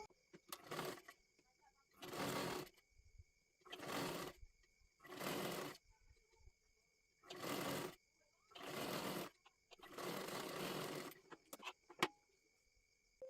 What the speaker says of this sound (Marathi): एकदम कडेकडेला एक शिलाई मारून घ्यायची आहे